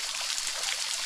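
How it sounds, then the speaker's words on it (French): A small mini cascade of water trickling over moss-covered rock beside a little grotto, a steady close bright babbling with no talk. "mini cascade."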